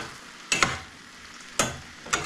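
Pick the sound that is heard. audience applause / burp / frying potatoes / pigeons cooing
frying potatoes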